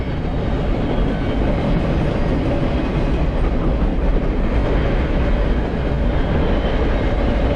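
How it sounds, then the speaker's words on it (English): A freight train with a DPU locomotive rolls past steadily, a loud, constant low rumble of wagons and wheels on rail filling the whole stretch, close by and without voices. "But I do now know that the middle or tail end locomotive is a DPU."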